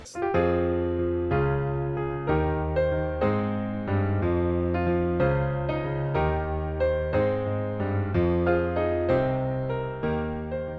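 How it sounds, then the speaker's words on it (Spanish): The second part of Hiccup's theme from How to Train Your Dragon plays as a sustained orchestral passage of rising phrases with steady rhythmic pulses, full and loud throughout, with no voices. "Luego el tema se eleva con una segunda parte que suena así."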